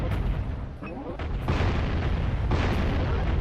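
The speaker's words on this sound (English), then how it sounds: "you gotta blow them up with the cannon." Cannon shots blowing up herbs in the Jak and Daxter remaster, heavy booming blasts landing in sequence, several loud explosions with rumbling tails over a dense game backdrop.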